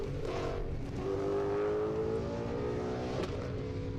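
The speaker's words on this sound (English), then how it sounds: "we've got another Mustang taking the course" A Ford Mustang races up a hill climb course at UMI's King of the Mountain event, its engine a loud, steady drone with a rising harmonic tone as it accelerates, continuous and fairly close throughout.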